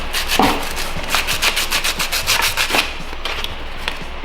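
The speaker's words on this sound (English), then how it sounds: "Just gonna throw a little scuff on them." Hand scuffing of a 2017 Subaru BRZ headlight lens before vinyl wrapping, a run of quick back-and-forth abrasive rubbing strokes, close and fairly loud, then easing off, no talk.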